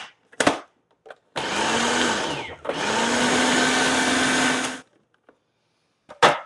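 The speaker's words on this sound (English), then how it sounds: "This is a very old food processor." An old food processor whirs in two steady bursts of a few seconds each, with a short pause between them and sharp clatters before and after.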